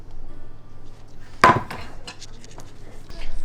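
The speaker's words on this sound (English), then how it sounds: "I am chopping it on the same board as the herbs" A single sharp chop of chicken on a cutting board, then a few lighter knocks and scrapes in a quiet kitchen.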